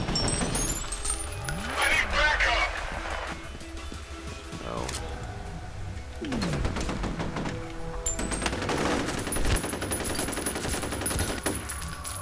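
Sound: gunfire in the video game F.E.A.R

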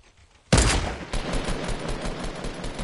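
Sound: gunshots in a video game

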